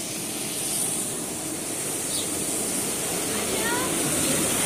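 Water flowing beside a path on a morning walk in Pokhara, a soft continuous hiss and rush heard at a moderate distance, steady and low in level, with faint outdoor background and no clear talk over it.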